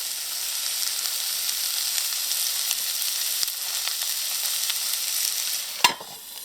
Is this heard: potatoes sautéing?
yes